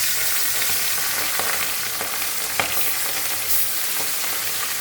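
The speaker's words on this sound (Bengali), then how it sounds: "আমি এখন একটা একটা করে মাছগুলো ভেজে উঠাবো।" Bacha fish frying one at a time in hot, lightly salted oil in a wok, giving a loud, continuous sizzle and crackle with occasional sharper pops and no voices.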